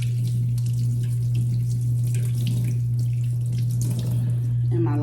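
Kitchen tap water running steadily into a sink while potatoes are washed, a continuous close splashing wash over a steady low hum, with no talk.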